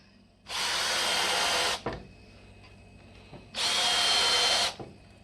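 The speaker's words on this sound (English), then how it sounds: "just a countersink bit" A power drill fitted with a countersink bit runs in two separate bursts of about a second each, close and fairly loud, with quiet pauses and a small clunk between them.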